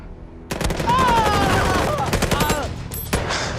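A film scene erupts in loud automatic gunfire, rapid bursts of shots crackling close and overlapping, with shouting voices mixed into the chaos.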